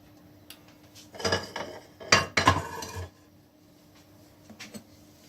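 A cooking pot clanks and scrapes against metal in a kitchen during preparation of an Algerian almond tajine, with a few loud clattering bursts in the middle and faint clinks after.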